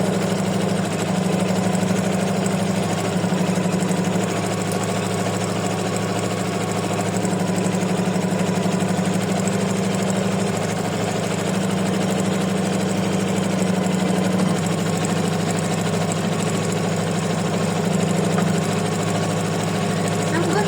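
A home embroidery machine stitches a decorative design, white thread on white fabric, humming steadily and evenly without a break, close by and continuous.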